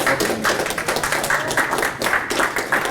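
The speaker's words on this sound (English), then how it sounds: "let's give all our panels a round of applause." Older adults at a community activities event give the panelists a round of applause, loud and dense with sharp clap accents spread through the sound, the clapping sustained for a few seconds.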